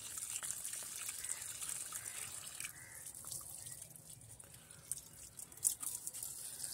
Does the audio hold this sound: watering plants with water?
yes